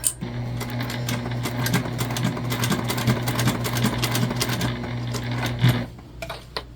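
A sewing machine stitches steadily through several layers of fabric for a beginner heart project, a close, continuous mechanical whir with rapid needle ticks that stops near the end, no talking.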